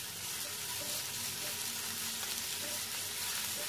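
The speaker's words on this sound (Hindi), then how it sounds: "अब हम उसमें 2 table spoon chop garlic, 2 table spoon chop ginger डाल के थोड़ा सौते करेंगे" Two tablespoons each of chopped garlic and chopped ginger sautéing in hot oil, giving a steady, dense hiss of frying that stays even throughout, fairly quiet and close, with no voices.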